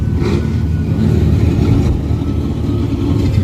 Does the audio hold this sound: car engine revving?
yes